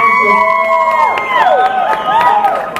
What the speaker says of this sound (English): I don't like the pity applause